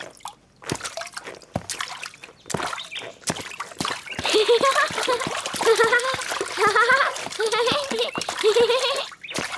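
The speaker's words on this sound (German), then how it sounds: "Das Tolle an Gummistiefeln ist, dass man damit durch Pfützen laufen kann." Rubber boots splash through water puddles in a children's cartoon, a run of wet splashes and drips under cheerful music, with a voice talking over them.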